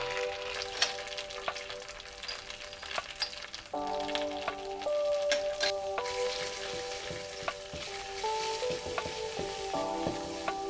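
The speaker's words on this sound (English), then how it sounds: "For the sauce, saute a little tomato concentrate with paprika." Tomato concentrate and paprika sautéing in a pan for an imam bayildi sauce, a soft continuous sizzle with scattered stirring taps over a faint tonal background, no voices.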